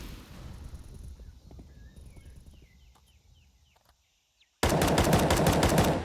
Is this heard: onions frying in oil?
no